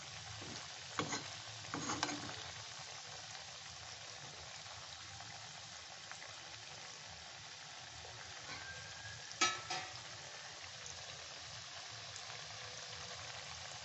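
Food frying lightly over medium-low heat in a pan, a soft, quiet sizzle running throughout, broken by a few sharp scrapes of stirring near the start and again later, with no voices.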